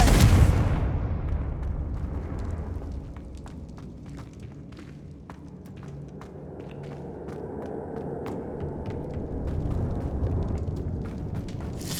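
A Confringo blasting spell explodes in Hogwarts Legacy, a loud boom at the start decaying into a rumbling tail, followed by scattered sharp clicks and crackles over a low ambient bed.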